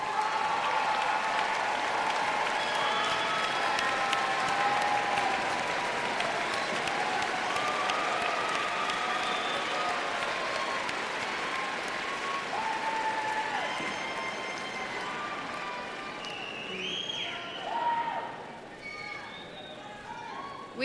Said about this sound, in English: students, please give your parents a round of applause.